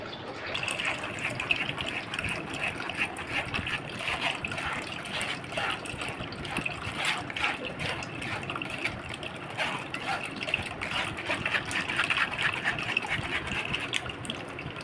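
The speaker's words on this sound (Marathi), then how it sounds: "तर हे अशा पद्धतीने गाळून घ्यायचं आहे." Vegetable soup strained through a sieve at home, a continuous liquid pouring and trickling sound, moderately close, with faint background voice.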